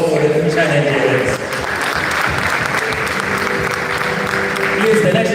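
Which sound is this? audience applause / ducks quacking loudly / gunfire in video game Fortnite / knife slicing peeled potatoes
audience applause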